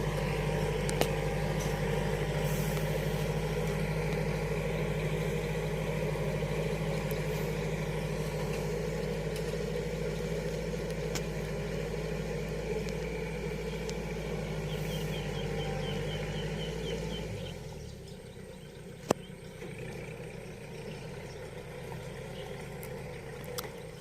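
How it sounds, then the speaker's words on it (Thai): A Kubota L5018 SP tractor fitted with Dunlop tyres runs steadily in a flooded paddy, its engine a continuous close, low drone for most of the stretch before cutting off near the end, leaving quieter background. "รถคันนี้ก็จะเป็น L5018 SP นะครับ"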